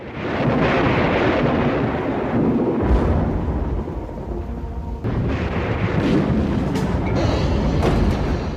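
A lightning strike and thunder in the 1989 horror film The Chilling, a loud sustained rumbling roar with crackling bursts, rolling on for several seconds with no speech over it.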